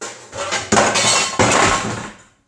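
A tray clatters against dishes in a home kitchen while making Middle Eastern milk puddings: two loud, close bursts of rattling crockery and metal, one after the other, then fading to quiet.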